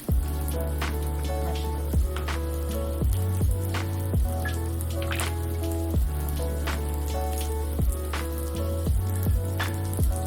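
Garlic sizzles steadily in melted butter while biscuits are prepared, a close, crackling fry with popping spatters scattered over a few rhythmic background knocks, with no talking.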